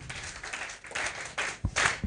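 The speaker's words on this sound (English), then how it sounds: "You clap for him." Applause from a group at a presidential skilling programme event at Mengo Technical school in Uganda, bursts of clapping rising and falling over two seconds, fairly close and moderately loud.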